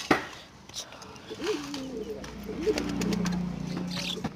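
A pigeon coos close by in soft, rolling low calls repeated through the stretch while it is being handled, with faint voices and rustling underneath.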